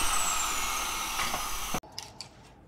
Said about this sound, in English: just grinding back some of the welds on the power steering rack